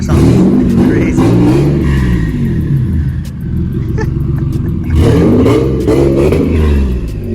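Turbocharged Nissan 350Z Nismo engine heard close, rising and falling through repeated revs with a deep rumbling note and some clatter, running loudly for several seconds with no speech over it.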